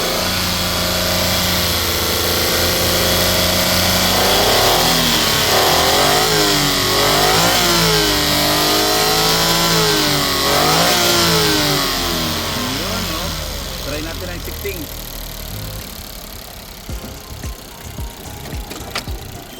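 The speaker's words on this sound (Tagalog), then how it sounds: "So dagdagan natin ng RPM ha." A Suzuki DA17V van engine with automatic gearbox revs up and down several times in rising and falling sweeps, loud and close, then settles toward a quieter idle.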